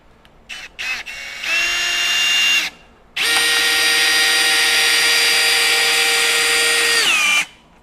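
A Milwaukee M18 Fuel Gen 4 hammer drill driver (2904) drives a screw: a short trigger blip, a brief whine, then a long steady high-pitched motor run that winds down abruptly, loud and near.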